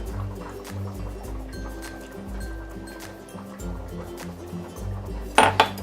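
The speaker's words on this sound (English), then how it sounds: "I'm going to be adding 3/4 cups of milk into 2 cups of our Biscuit Mixture" Milk being poured into biscuit mixture for a chicken pie topping, a soft liquid trickle with a tonal hum underneath, capped by a few sharp clinks of a dish near the end.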